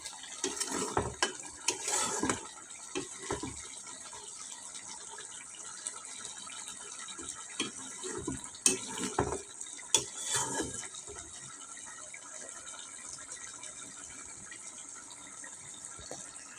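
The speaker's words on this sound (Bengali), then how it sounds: "এবার ভালো করে কষিয়ে নেব।" Potato curry is stirred and sautéed in a pan, with intermittent scraping and clinking of a spoon against the metal and a faint sizzle between the louder strokes.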